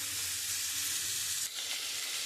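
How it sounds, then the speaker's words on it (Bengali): Cut potatoes and tomato fry in hot oil with a steady, loud sizzle and a soft stir midway, with no one talking. "আমি একটুখানি ভেজে নেব।"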